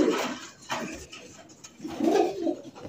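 Native domestic pigeons coo nearby in low, throaty, rolling phrases, one starting the stretch and another swelling near the end, with faint background noise.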